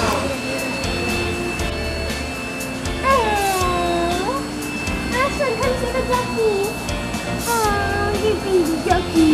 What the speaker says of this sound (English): And there's a cat too.